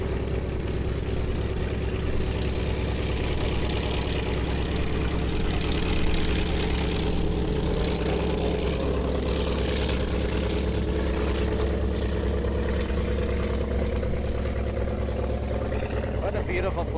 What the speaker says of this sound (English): We're going to see if we can get away from this old-timer aircraft passing by.